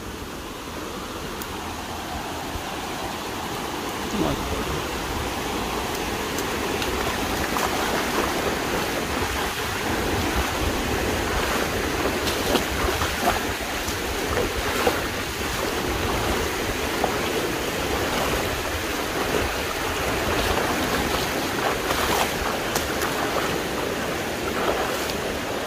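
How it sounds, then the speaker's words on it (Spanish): Heavy rain roars in steadily across the whole stretch, a dense, continuous hiss of downpour approaching, loud and unbroken with no voices. "ya se acerca la lluvia, ya se escucha ahí fuerte"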